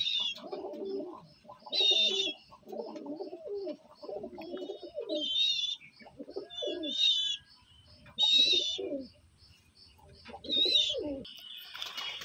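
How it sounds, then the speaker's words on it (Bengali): A male pigeon coos in repeated low, rolling phrases, close by, while it moves about. Brief higher chirps sound between the bouts. "এই দেখুন নর পায়রাটা কেমন ঘুরছে"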